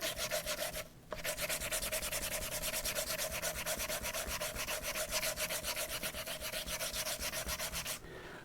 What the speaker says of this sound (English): What I'm going to do now is I'm going to take that sanding disc and I'm just going to